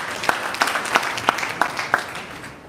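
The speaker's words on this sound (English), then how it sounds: "Let's give her a round of applause." An audience at a live wellness session applauds with a steady run of claps that stays moderately loud and close, then tapers off.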